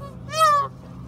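A single close goose-like honk from a duck or goose at a lakeside, brief and fairly loud over a quiet background.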